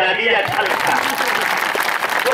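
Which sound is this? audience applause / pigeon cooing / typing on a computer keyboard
audience applause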